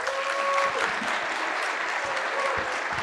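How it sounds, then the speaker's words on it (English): Sustained applause from an audience, dense and steady clapping throughout with a voice faintly audible beneath. "Round of applause, guys. Round of applause."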